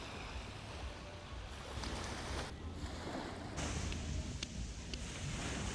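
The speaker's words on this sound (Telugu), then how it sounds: "ఇది ఒక చిన్న బీచ్ లాగా ఉంది." Waves wash onto a small beach near Pattaya, Thailand, in a steady, rushing roar of surf mixed with gusty wind buffeting the microphone, continuous and fairly loud throughout, with no talking.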